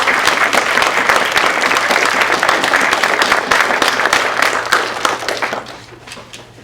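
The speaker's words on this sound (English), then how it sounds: "please welcome her with a round of applause" A round of applause from an audience at a campus event welcoming a speaker, with sustained, dense clapping for about five seconds that then trails off quietly.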